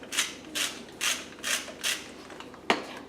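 A salt grinder is twisted over a white mushroom sauce, giving five evenly spaced ratcheting bursts about half a second apart and then one sharp click, close and fairly quiet with no talking.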